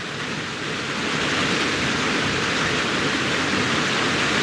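Steady heavy rain on a homestead, a loud continuous broadband hiss that fills the whole stretch without pauses and with no talking over it.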